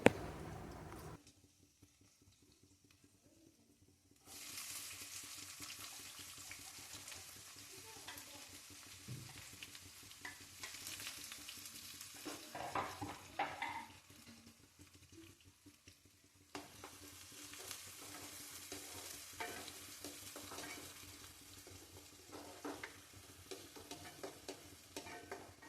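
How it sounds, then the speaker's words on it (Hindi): Garlic and onion frying in oil in a home kitchen, a steady broadband sizzle with occasional stirring scrapes, quieter at the start and swelling when the onion goes in, continuing without speech. "तो लहसुन यहाँ गोल्डन हो रहा था देखो, तो तब मैं क्या करी इसमें प्याज को ऐड करी।"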